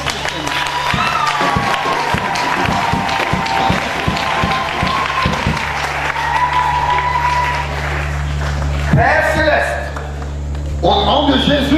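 Congregation applause at a 2015 healing service in Impfondo, a steady patter of many hands clapping over sustained musical tones, with voices talking and calling out toward the end.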